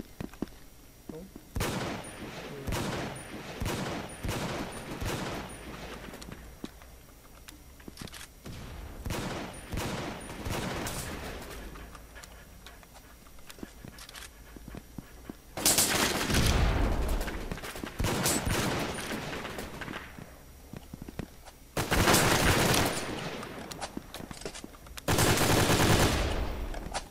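Gunfire in the game Brain Out rattles in rapid bursts and sustained automatic volleys, loud and close, with heavy blasts breaking in near the end.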